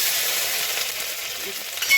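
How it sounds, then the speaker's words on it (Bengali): Crushed ginger and green chili fry in hot oil with cumin, giving a steady, close, bright sizzling hiss that holds at an even level throughout, with no talk. "আদা কাঁচা লঙ্কাটাও ভেজে নেবো।"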